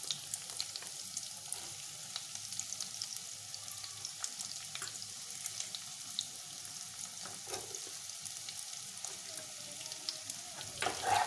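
Two large chopped onions fry in a pan for a chicken dish, a steady, fairly quiet sizzle and crackle with small spatula scrapes running throughout, with no voices.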